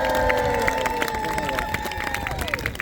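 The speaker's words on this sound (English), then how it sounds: "give all our Knight Squires minute arms a huge round of applause" A crowd at a medieval Easter festival at Arundel Castle claps and cheers for knights and squires after a win. Tonal horn-like drones sound over the dense clapping, loud and close.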